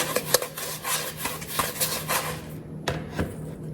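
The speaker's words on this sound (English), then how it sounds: "Now you just want to toss it in here and give it a good coat." Pieces being tossed in a bowl to coat them in cinnamon sugar, a quick run of close scraping, rubbing and light tapping sounds that ends in a couple of sharper knocks.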